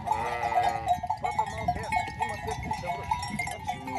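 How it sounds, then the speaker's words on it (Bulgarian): Sheep of the Vakla Marishka breed bleat repeatedly on a farm holding 150 ewes, several overlapping calls close by with livestock bustle, and a voice talks over them. "В тази ферма се отглеждат 150 овце майки от породата Вакла Маришка"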